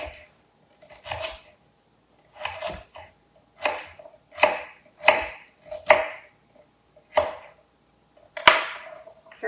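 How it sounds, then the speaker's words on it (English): A knife chops through medium-sized carrots on a cutting board in about ten crisp, separate strikes. The strikes come at irregular intervals, close and clear with near silence between them. "6 carrots is a lot to cut"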